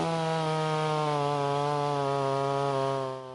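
A chainsaw cutting a wood slab drones at steady high revs with a strong buzzing tone throughout, close and loud, easing off slightly at the end.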